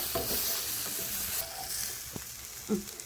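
Prawns sauté with a ground masala paste in a pan for a prawn theeyal, giving a steady close sizzle with soft stirring scrapes throughout and no voices.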